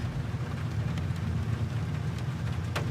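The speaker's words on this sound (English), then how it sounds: "This storm looks like bad news. It's just a little rain." Steady rain and storm wind in Shadow of the Tomb Raider, a dense continuous wash with a low rumble and a few faint brighter spatters, no talking.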